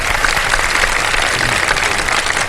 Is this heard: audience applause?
yes